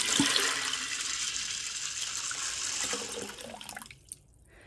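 Water pours into an Instant Pot holding beans and salt, a steady close rushing splash that tapers off and stops, followed by a small clunk.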